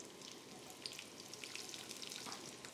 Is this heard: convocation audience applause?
no